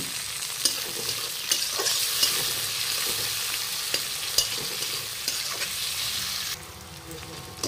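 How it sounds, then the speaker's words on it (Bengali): Chopped tomato tossed into fried onions in a pan, a loud sustained sizzle broken by repeated spatula clacks and scrapes, close up, easing to a quieter hiss near the end. "পেঁয়াজটা লাল করে ভাজা হয়ে গেছে, এবার দিয়ে দেব টমেটো কুচিটা"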